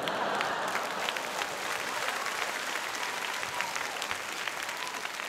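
An audience at a Cantonese stand-up comedy show breaks into loud, dense applause that fills the room, sustained evenly throughout without fading.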